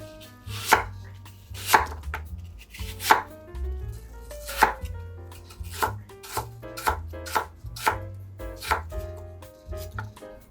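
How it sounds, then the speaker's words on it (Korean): A peeled, cored apple being diced into small cubes on a cutting board, with about a dozen crisp knife chops in a steady, unhurried rhythm, close and clear. "사과 한 개 껍질이랑 씨 제거했으면 잘게 깍둑 썰기 해줄게요"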